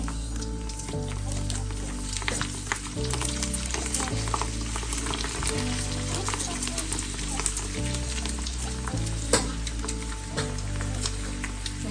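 Chana bhungra fry in oil in a pan with a steady, close crackling sizzle that continues under background music.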